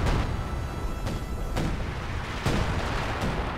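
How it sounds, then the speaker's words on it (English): Artillery strike in a Company of Heroes 2 battle: repeated heavy booming impacts at irregular intervals, loud and dense over a constant rumbling battlefield roar, with no talk. "Another artillery strike going down here."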